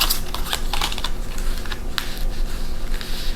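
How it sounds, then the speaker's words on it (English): A few playing cards are shuffled, giving quick close, light clicking and riffling taps in short irregular bursts. "It's hard to shuffle like 4 cards"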